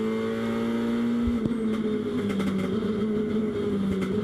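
A front wheel drive race car accelerates downhill during a motorsport qualifying session, its engine note climbing steadily with a gear change partway through, distant but continuous under faint crowd and track ambience.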